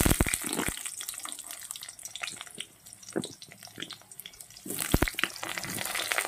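Potato pieces dropped into hot oil tempered with whole spices, crackling and spattering in bursts that fade and swell again, heard close with no voices.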